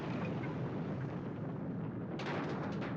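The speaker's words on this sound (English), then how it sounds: "He smiles as he crashes into the bulldozers, destroying the car in an explosion." A car smashing into bulldozers and exploding in a 1971 film, heard as a dense, sustained roaring rumble of blast and fire with a sharp crashing burst near the end.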